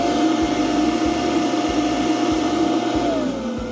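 A battery-powered fan runs at full 100% speed off a LiTime LiFePO4 lithium battery, giving a loud, steady whooshing roar with a constant motor whine close by, dipping slightly near the end.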